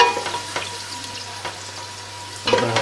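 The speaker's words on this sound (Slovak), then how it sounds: "takže ho opražíme z oboch strán, ako som hovoril, do biela." Pork loin browning in hot lard, a steady close sizzle with a few sharper crackles and a louder burst of spitting near the end; no voices.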